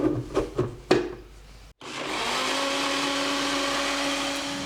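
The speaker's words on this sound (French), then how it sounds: "Et maintenant on va pouvoir mixer à nouveau." A blender whirs steadily, close and loud, mixing ramen broth with miso after a few knocks and a short silence, the motor holding an even drone to the end.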